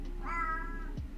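A house cat lets out one clear, drawn-out meow close by over a steady low background hum, with no talking.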